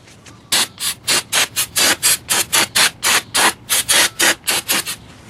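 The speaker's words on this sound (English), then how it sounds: "give it a good brake cleaning spray" Brake cleaner sprays onto rear disc brake parts of a Chevy Equinox in rapid repeated hissing bursts, about twenty short loud blasts in a fairly regular rhythm, close up with no talking.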